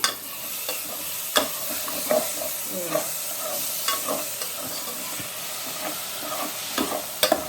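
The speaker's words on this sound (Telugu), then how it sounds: "ఇప్పుడు ఆయిల్లో మగ్గుతూ ఉన్నాయి" Tomatoes sautéing in oil for a spinach tomato curry make a steady close sizzle, with irregular knocks and scrapes of a spoon stirring the pan and no voices.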